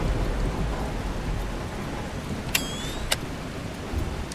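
Steady rain falls at night in the video game The Last Caretaker, a soft continuous hiss with a low rumble beneath and two brief sharp clicks partway through.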